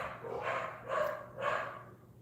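Three barks from dogs in a home, evenly spaced about half a second apart, moderately loud against a low steady hum.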